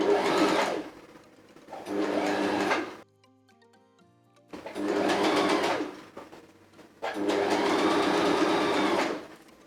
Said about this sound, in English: And then you can machine sew all the parts together.